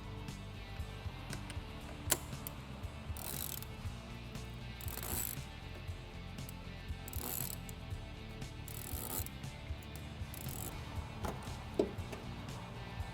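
A ratchet with an 8mm socket loosens the air filter clamp on a K&N Camaro intake, giving repeated quiet clicking bursts in an uneven rhythm, close by, with no talk.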